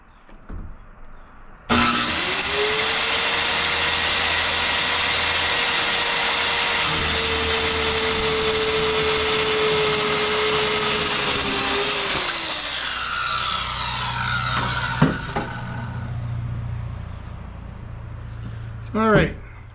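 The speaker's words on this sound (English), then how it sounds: "We're going to go ahead and cut us a little square off of that." A power saw cuts a small square off a 2x6 board for a solar light mounting bracket on a farm. Its motor whirs up loud and close, holds a steady biting whine for about ten seconds, then winds down, followed by a few knocks.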